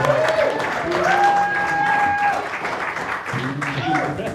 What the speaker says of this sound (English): Can I have a round of applause, please?